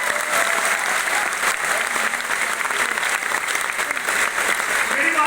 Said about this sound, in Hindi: पहले उसके लिए एक बार जोरदार तालियां।